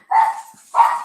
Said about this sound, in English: You can hear the dog there.